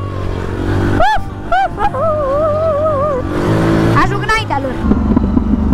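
A car in a racing video game fitted with an exhaust, with a loud engine roaring and revving under pitch-swooping tones and sharp popping bursts of backfire, while someone talks over it.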